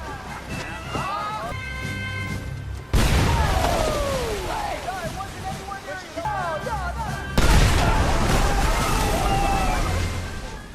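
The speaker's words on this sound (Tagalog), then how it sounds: "Sumabog ang pangalawang granada" Two grenade explosions in a war film hit as heavy, sudden booms a few seconds apart, each followed by a rumbling, splashing decay near water. A narrator talks throughout.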